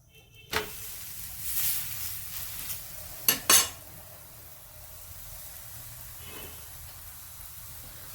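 A cabbage paratha fries in oil on a pan with a soft continuous sizzle and hiss, broken by a sharp knock and a brief burst of spatula scraping midway, close and quiet, no voices.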